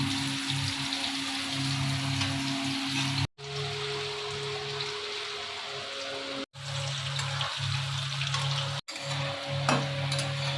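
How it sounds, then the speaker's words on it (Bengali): Potato pieces fry in oil in a wok that had earlier been used for frying cauliflower, giving a steady, close crackling sizzle with a few brief cuts in the sound and no talk over it. "এই তেলেই আলুটা এখন ভেজে নিচ্ছে। আলুটাও লাল লাল করে ভেজে নেব।"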